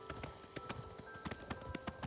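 Hooves clip-clop at a quick, steady pace in Oblivion Remastered, a run of distinct hard taps fairly close and moderately quiet, with a faint thin tone in the background.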